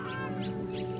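Spur-winged geese calling on the wild Liuwa Plains of Africa, a few rough honking calls rising over a steady hum of background sound.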